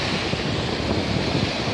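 Baltic Sea waves wash onto the beach at Jurata as a steady broadband roar of surf mixed with wind buffeting the microphone, loud and continuous with no voices.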